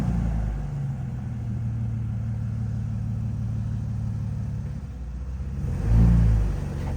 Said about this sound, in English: His Jeep is manual, so it makes it a little more challenging because he has to keep that RPM up